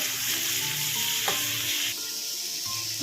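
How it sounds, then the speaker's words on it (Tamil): Steady sizzling and crackling of onions, shrimp and dried anchovies frying in a hot pan, with a brief scrape of stirring partway through. "வெங்காயம் போட்டு வதக்கிங்க"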